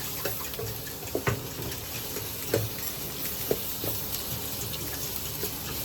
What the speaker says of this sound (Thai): แล้วก็ผัดไปเรื่อยๆนะ